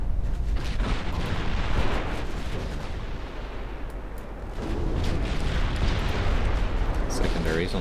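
Battleship secondary guns firing in the naval strategy game Ultimate Admiral Dreadnoughts, a dense, continuous wash of booming shots and rumble throughout, loud and close, with a voice talking over it.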